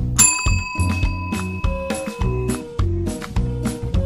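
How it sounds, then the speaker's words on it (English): Bright bell dings ring out repeatedly in a horror video game, layered over a steady low musical drone; the tones come in quick bursts, loud and close, with no talk. "she would ring that bell"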